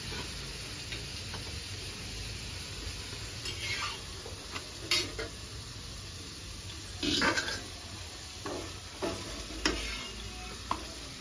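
Dosa ingredients fry in a pan with a pinch of salt, giving a steady low sizzle broken by scattered scrapes and clinks of stirring, with no voices.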